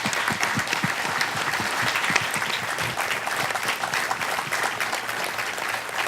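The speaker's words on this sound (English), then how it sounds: "Please join me in one big round of applause of appreciation." A crowd gathered aboard the USS Midway Museum applauds in appreciation at an evening event, a steady, full round of clapping that holds evenly at moderate loudness for about six seconds.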